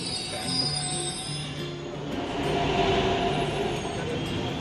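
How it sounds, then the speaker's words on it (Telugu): A metro train pulls into a station, giving a steady mechanical rumble with tonal motor and brake whines that rise slightly as it arrives, heard from the platform at moderate level. "మన ట్రైన్ అయితే వచ్చేసింది"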